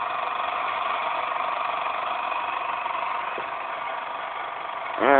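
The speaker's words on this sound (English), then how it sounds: "Sometimes my motors give a little bit noise" A homemade Newman motor runs with a steady, even electrical hum and whine, holding constant before a brief rising surge right at the end.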